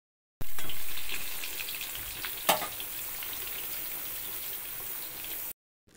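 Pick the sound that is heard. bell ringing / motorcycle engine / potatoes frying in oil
potatoes frying in oil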